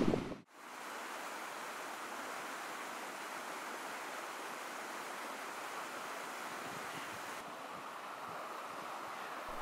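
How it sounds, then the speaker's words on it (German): The river Wurm flows through a wintry park in the Wurmtal recreation area, a steady broadband rush of water that stays close and constant throughout with no voices. "Das ist der Fluss Wurm, der hier fließt."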